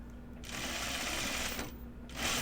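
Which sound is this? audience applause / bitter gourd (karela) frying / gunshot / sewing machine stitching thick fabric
sewing machine stitching thick fabric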